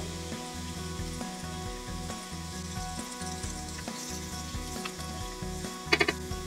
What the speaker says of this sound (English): Next, we're going to add the garlic and let it cook for about a minute also.